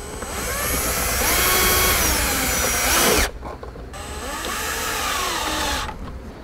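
Power drill driving self-tapping screws into a brake controller bracket on a vehicle's passenger-side knee bolster, two loud whining bursts rising in pitch as each screw bites, with a short pause between them and no talk.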